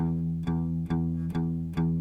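Steady strummed acoustic guitar chord pattern in even straight eighth notes, four sharp accents across two seconds, ringing close and clear with no voices.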